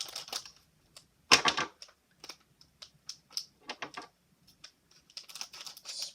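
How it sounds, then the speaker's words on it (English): Krabby Patty packaging from a SpongeBob SquarePants unboxing is cut open, giving a series of short, crisp snips and crinkles, one louder burst near the start and then irregular light cuts, close by with no talk. "I'm gonna cut that open."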